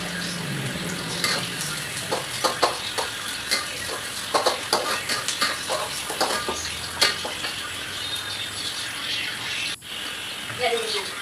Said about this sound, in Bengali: পেঁয়াজ কুচিটা হালকা ভেজে নেব